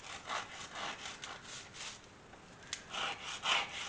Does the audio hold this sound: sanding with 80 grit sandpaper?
yes